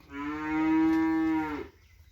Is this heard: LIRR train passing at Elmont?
no